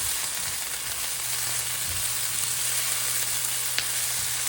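Vegetables frying in a pan with salt: a continuous close hiss of sizzling oil with a faint low hum and a few soft stirring knocks, no voices.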